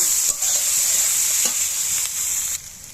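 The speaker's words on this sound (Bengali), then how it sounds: "এই পেঁয়াজ আর শুকনো চিংড়ি মাছ একসঙ্গে ভাজা করে নেব" Steady, loud hiss of onion and dried shrimp frying in a pan, with a few soft stirring scrapes; no talking.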